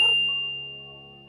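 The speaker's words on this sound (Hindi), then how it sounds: "ये घंटी की आवाज।" One clear bell strike rings out at night from the direction of a forest, with a sharp onset and a long, steady, slowly fading metallic tone.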